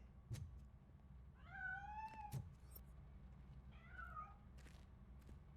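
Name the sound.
cat meowing in video game RoboCop: Rogue City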